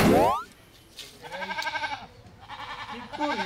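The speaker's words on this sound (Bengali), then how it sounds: "এই যে ছাগল ওখানে বেমরাইতে আছে" A goat bleats twice nearby, wavering cries separated by a short pause, following a brief sharp sound at the start.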